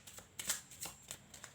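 A small deck of tarot cards is shuffled by hand in soft, rhythmic riffling bursts, quiet and close, with no voices.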